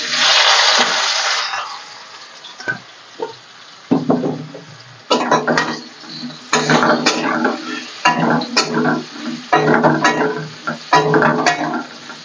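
Taro pieces dropped into hot oil left from frying fish in a pan, a loud close sizzle that fades within two seconds, followed by stirring knocks and a voice talking.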